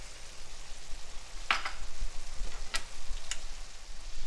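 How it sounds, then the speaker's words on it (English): Pasta bolognese sauce with fresh nutmeg is stirred in a pan. A soft, continuous sizzle carries a few sharp spoon clinks against the pan, with no voices. "And we're going to stir."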